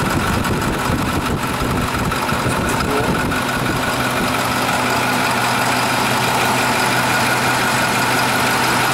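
A 2013 Starcraft XL bus on an International chassis, with a 220-horsepower diesel engine, idles nearby in a steady, even low rumble with a constant mechanical hum, unchanging throughout and without talk.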